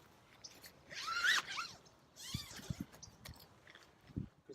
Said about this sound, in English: So I'm going to unzip my tent.